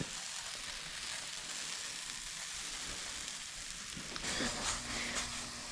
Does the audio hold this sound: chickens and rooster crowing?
no